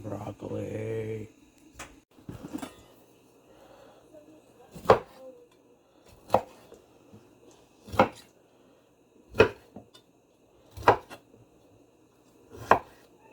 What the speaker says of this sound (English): I am just cutting up these broccoli into smaller bits